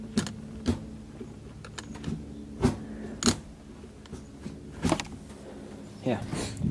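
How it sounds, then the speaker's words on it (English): Manual gearbox of a Honda D16Y8 engine being shifted through the gears during a rebuild, giving several sharp mechanical clunks and clicks spaced irregularly over a quiet background with a low steady hum. "it's reluctant to go into fifth without the clutch"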